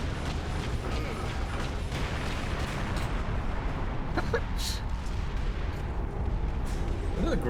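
Cannon fire in the video game Warhammer 40K Space Marine, an orc gunner firing repeatedly amid continuous clanking machinery and battle noise, with several sharp booms over a dense, loud game soundscape.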